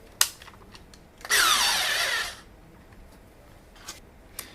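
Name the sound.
NoCry electric screwdriver driving screws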